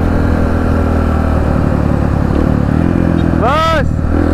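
A big motorcycle engine idles steadily and loudly nearby, a continuous mid-pitched rumble, briefly overlaid by a sweeping tonal sound and with a voice talking over it.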